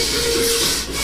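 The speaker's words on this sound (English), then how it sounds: "as though we're wiping the pan down and cleaning it" A nylon utensil rubs back and forth across a soft aluminum pan in a steady, close scraping wipe, with a faint ringing tone running through the middle.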